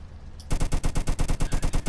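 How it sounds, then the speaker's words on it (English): Rapid gunfire in the Roblox video game: after a short quiet lead-in, a steady burst of about a dozen evenly spaced loud shots rattles on without a break, close and dominant with no voices over it. "I'm going on the top of the roof to snipe this guy down."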